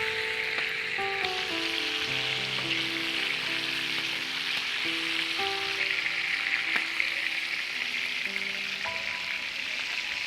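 Potatoes frying in hot oil alongside another ingredient, a steady close sizzle and crackle running continuously, with soft melodic background music tones layered over it and no talking.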